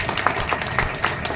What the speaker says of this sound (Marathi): म्हणून आपल्या सर्वांसाठी जोरदार टाळ्या